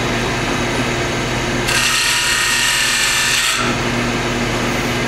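A power sander with 80 grit runs against redwood, a loud, steady, harsh whirring grind that lasts about two seconds over a constant mechanical hum, with no talking.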